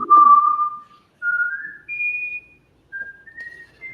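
A person whistles a music track solo, with clear sustained tones that step upward across several phrases, then pause and resume. The whistling is close and loud, and nothing plays behind it.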